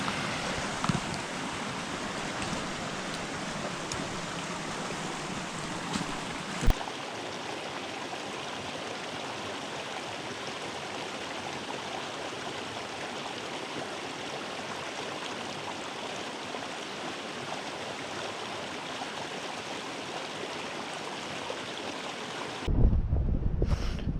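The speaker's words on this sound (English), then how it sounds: "We're following another pretty cool little creek here." A small creek flows during a winter backpacking hike in the Fridley Gap area, a steady soft rushing babble of water, even and continuous, with a brief rustle and a footstep-like thump near the end.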